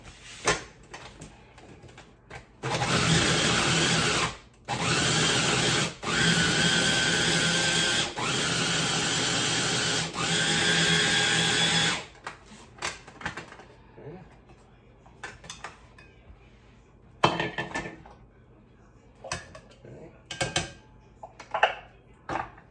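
A food processor grinds Parmesan or Romano cheese in loud whirring bursts, several pulses over about ten seconds, followed by clattering of the bowl and lid and some talking.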